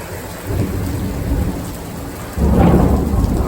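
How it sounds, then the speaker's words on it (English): A thunderstorm with steady rain pours down, and a deep rumble of thunder rolls in partway through and swells louder toward the end, with no voices. "The storm's getting soft."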